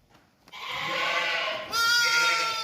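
A lamb bleats loudly and close in two long, wavering calls, the second higher and stronger, with a brief rustle before.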